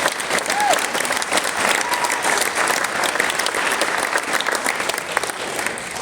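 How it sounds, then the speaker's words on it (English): Crowd at a school athletic awards night gives the MCs a big round of applause, continuous dense clapping filling the room for six seconds, with a brief whoop near the start and scattered voices underneath. "just give them a massive round of applause"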